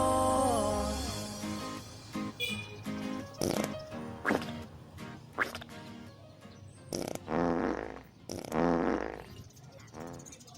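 A run of fart sounds set to music, with repeated short, loud bursts of varying length and pitch that punctuate a backing track throughout.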